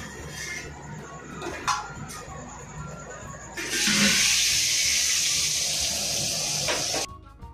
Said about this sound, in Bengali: ওই জল পড়ছে ওটা বন্ধ কর